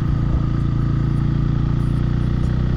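A motorcycle engine runs steadily while riding, a loud, close, continuous low rumble with an even throbbing pulse and no talk over it.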